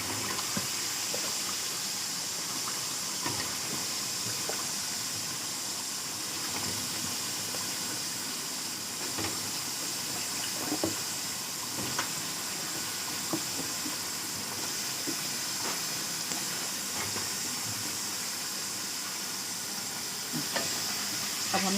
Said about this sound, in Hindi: अब इस पॉइंट पे हमने आलू इसमें शामिल करेंगे जो हमने काट के पानी में भिगो के रखे थे